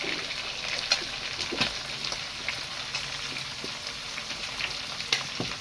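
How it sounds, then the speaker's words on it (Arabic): Onions sauté in a frying pan with a bright, continuous close sizzle and a few sharp spatters and stirring clicks, with no one speaking. "وهشوح. انا عايزه البصل هنا برضو يدبل"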